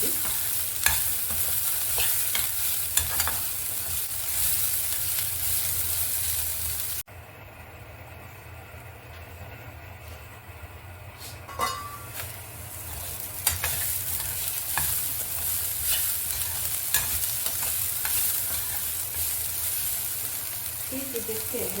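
Brinjal fries in a pan with a steady, close sizzle and repeated stirring scrapes. The sound dips briefly to a quieter stretch before the frying noise returns.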